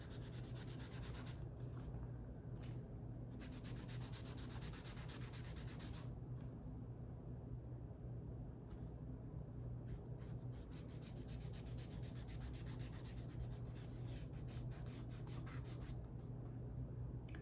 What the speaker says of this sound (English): wrap it around my fingers, dip it in, and rub it on, going with the direction of the wood grain